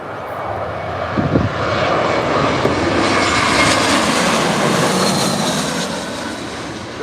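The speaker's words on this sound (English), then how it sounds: "So Lufthansa A320 there, coming in hot." A Lufthansa Airbus A320 lands at Birmingham airport, its jet engines roaring loud and steady throughout, a broad continuous rumble with no voices.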